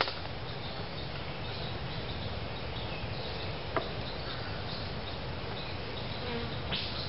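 Honeybees swarming around an opened beehive during hive preparation and oxalic acid treatment, a dense, continuous close buzzing hum with a few brief clicks, no talking.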